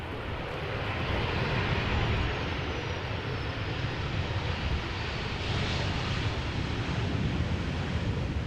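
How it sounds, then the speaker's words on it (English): Boeing 737-900 in SkyTeam livery, arriving from Paris-Charles de Gaulle, touching down in crosswind at Amsterdam Schiphol; a steady, fairly distant engine roar mixed with wind-like rushing noise that continues evenly throughout. "The 737-900 from Paris-Charles de Gaulle has just touched down."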